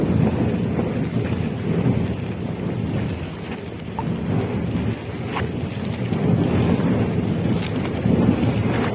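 Steady, loud wind roars and buffets across the whole stretch, a broad rushing noise over open water on a fishing trip, with gusts swelling and easing.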